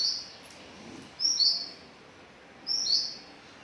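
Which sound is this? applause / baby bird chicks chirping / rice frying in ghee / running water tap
baby bird chicks chirping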